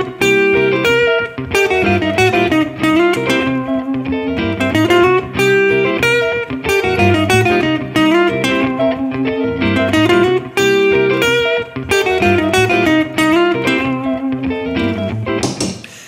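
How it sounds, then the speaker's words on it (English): An electric guitar plays a swinging blues lick over a C dominant seventh backing jam. The lick is steady and loud, with dense rhythm and no talk over it. "I'll play this little guitar lick idea over top of it for you so you can hear what it sounds like."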